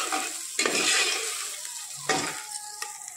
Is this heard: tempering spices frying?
yes